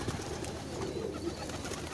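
Pigeons coo faintly in low, soft, repeated murmurs against a steady background hum, with no one speaking.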